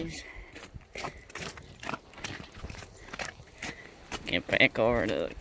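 Car keys jangle and clink repeatedly up close, with rustling and crunchy handling noises throughout and a louder rattling burst toward the end.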